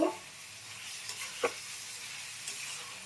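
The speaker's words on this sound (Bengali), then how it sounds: "এবার আমরা নাড়া দিব" Stirring crispy chicken in a covered pan over lowered gas flame; a quiet, steady sizzle with a couple of soft scraping stirs partway through, no voices.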